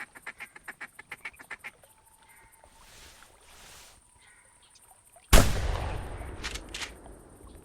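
Flock of ducks in theHunter Classic hunting game: a quick series of repeated quacks at the start, then quieter flapping and calls, before a sudden loud gunshot blast with a ringing tail and a couple of further sharp reports.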